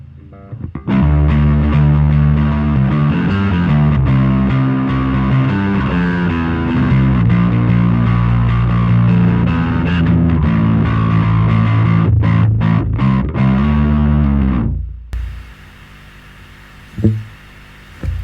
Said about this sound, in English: Turn the blend all the way over, and you can already hear we get some serious noise from it